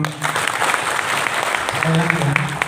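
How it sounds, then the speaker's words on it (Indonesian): An audience at a meet-and-greet event in Kebumen, Indonesia, claps in a dense, steady burst of applause, loud and close throughout, with voices mixed in. "Tepuk tangan dong."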